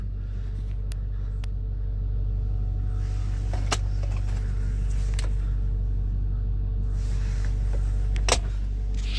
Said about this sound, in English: Of course, the power sunroof.